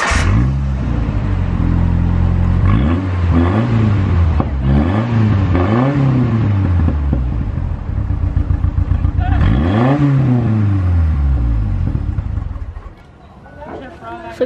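A truck engine with a modified exhaust revs up and down repeatedly, close and loud. It rises and falls in several rhythmic bursts, with someone talking over parts of it.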